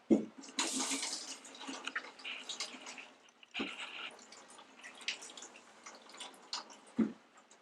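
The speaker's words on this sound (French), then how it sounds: "juste placer ce qui reste des patates dedans. Et puis extraire l'eau comme ça." Water squeezed from grated potatoes inside a cotton bag trickles and drips into a container, soft and close, with irregular splashes and brief pauses, no talk.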